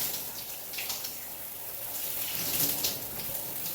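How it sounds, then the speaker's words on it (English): Steady running water pours continuously from a tap as hair is saturated during a wash, a close, even hiss with slight splashing variation and no talking. "So you get the hair fully saturated with water."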